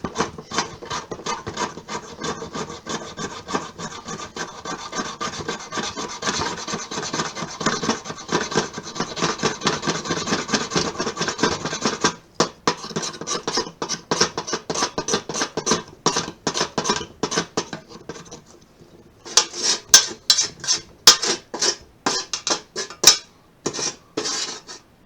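The back of a knife scrapes pine wood into small chips in a steady run of quick, close rasping strokes, with a brief pause and then sharper, more spaced scrapes toward the end; no one speaks.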